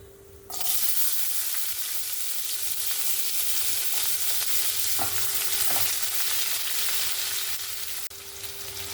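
Onions frying in a pan with a loud, steady sizzle, a couple of dull stirring knocks partway through.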